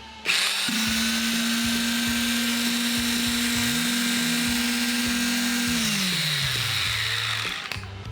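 Steady high-pitched motor whine of a Procraft CV1200 concrete vibrator running continuously at close range, then winding down in pitch near the end.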